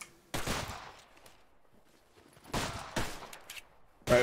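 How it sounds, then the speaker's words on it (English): Gunfire in the video game Anarchy: Wolf's Law, with several sharp bursts of shots landing in separate clusters, loud against near silence between volleys. "We're getting shot from all over."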